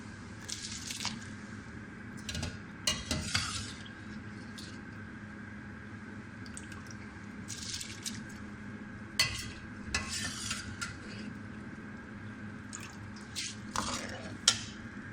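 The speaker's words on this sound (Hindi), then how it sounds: "अब इसके अंदर हम चावल डालते हैं" Rice poured into a pot of boiling water for biryani, with stirring and bubbling, wet sloshing, scraping and intermittent splashes as grains are poured and mixed, fairly close and moderate.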